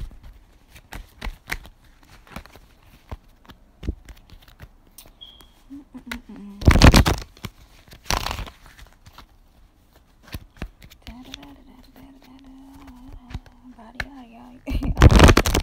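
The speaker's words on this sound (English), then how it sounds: "I'm going to shuffle the cards real quick." Cards being shuffled in quick riffling bursts, crisp and close, with brief pauses and a voice murmuring softly in between.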